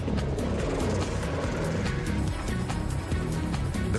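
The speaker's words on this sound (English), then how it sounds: "The best way to do this is by chopper" Loud, steady rotor thump and turbine roar of a helicopter flying in icy winter storm conditions, a dense continuous drone with rhythmic chopping throughout.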